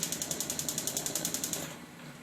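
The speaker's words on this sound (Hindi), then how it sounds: "आपको गैस की आवाज़ आएगी साथ ही" A Rinnai gas heater's igniter clicks rapidly about fifteen times in a steady rhythm, close and fairly quiet, then stops and leaves a soft hiss of flowing gas.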